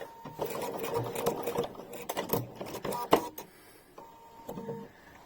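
A sewing machine running a satin stitch on fabric, whirring in close, rapid mechanical bursts that start and stop, with some quiet talking underneath.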